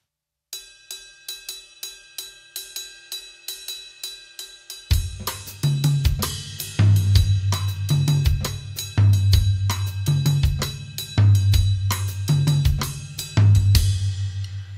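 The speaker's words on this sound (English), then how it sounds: "if you know what a 6-8 Afro-Cuban rhythm is, or a bembe, that sounds like this." Drum set playing a 6/8 Afro-Cuban bembe rhythm: a lone bell-like pattern ticks steadily for several seconds, then the full kit enters with punchy low drum hits and cymbals in a looping triplet groove, close and loud.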